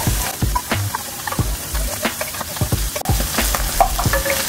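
A spoon scrapes and stirs Campbell's Cream of Mushroom sauce in a frying pan for carbonara, with repeated close scraping strokes over a light, steady sizzle and no voices.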